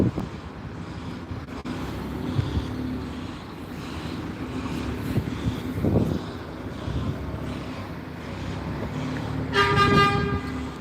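Go Ahead Pullman's Wright Gemini 3 StreetDeck double-decker bus arriving at a Gloucester bus station: steady engine rumble and wind noise with a brief louder swell, then a short horn toot near the end.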